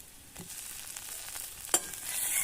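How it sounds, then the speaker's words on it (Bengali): Onions and tomato frying in a pan of oil, a soft steady sizzle with light stirring clinks and one sharp scrape near the end, no voices. "টমেটোটা ভেজে নেব।"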